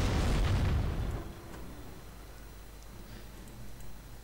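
A deep artillery boom in a World War II strategy video game, with heavy low rumble for about a second, then a quieter battlefield bed with faint distant pops.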